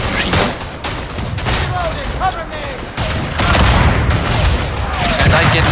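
Dense gunfire from a World War I battle in the Verdun video game, with rapid rifle and machine gun bursts crackling continuously throughout at close range, with a brief gap near the middle before the firing swells louder again.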